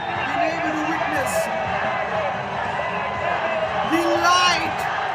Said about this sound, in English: it's a brilliantly passionate crowd who have cheered their team on, buoyed them on towards victory